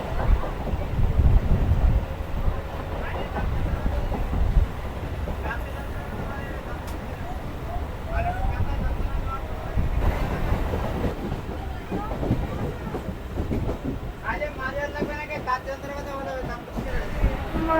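A Sealdah–Hasanabad local train pulling out of a station: a continuous low rumble and rattle with wind buffeting the microphone, heard from on board, with faint squeals toward the end.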